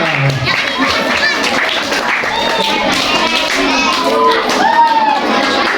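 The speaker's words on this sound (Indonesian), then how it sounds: "Ya, tepuk tangan buat kita semuanya." A group of children at a Ramadan pesantren class, grades 4 to 6, claps loudly and close together, mixed with excited shouting and chatter throughout.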